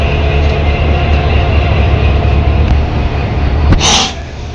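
Locomotive 319 at Kamalapur railway station gives a loud, steady, close rumble throughout, with a short hissing burst near the end.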